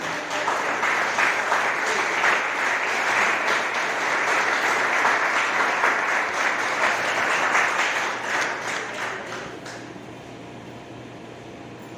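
Church congregation applauding, a steady, dense wash of clapping filling the room at even loudness for most of the stretch, then thinning and fading toward the end.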